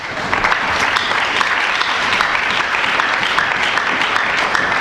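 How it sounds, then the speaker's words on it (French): A church congregation applauds and cheers for a brother during a pastor's sermon, with steady, dense clapping sustained throughout at close, loud level. "Est-ce qu'on peut acclamer pour le frère?"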